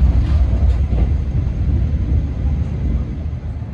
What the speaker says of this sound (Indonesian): Kereta api Argo Sindoro masuk di jalur 1 stasiun Tegal